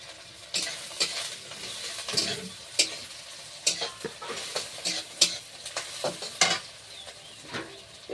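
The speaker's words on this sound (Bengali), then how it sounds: "এই যে চিংড়ি মাছ, এই চিংড়ি মাছগুলো এবার তেলে দিয়ে দেবো।" Shrimp stir in very hot oil in a wok, a soft background sizzle punctuated by repeated sharp scraping and clinking of a spatula at an uneven, busy rhythm.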